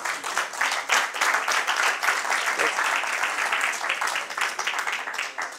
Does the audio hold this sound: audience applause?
yes